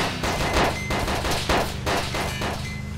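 Gunfire in DayZ with the OverPoch mod: a rapid run of loud, close shots cracks out in quick bursts for about three seconds, with no talking.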